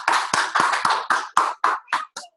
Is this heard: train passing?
no